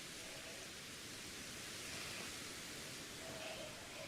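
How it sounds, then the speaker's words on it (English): A PC computer fan gives off a steady, faint broadband whoosh that holds constant without change, alone and unbroken. "PC is just so much louder than the heater."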